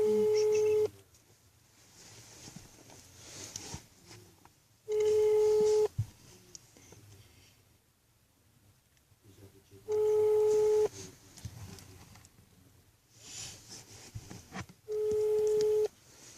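Telephone ringing over a speakerphone during a prank call, four long electronic ring tones spaced evenly apart with quiet stretches between them and faint voices in the gaps.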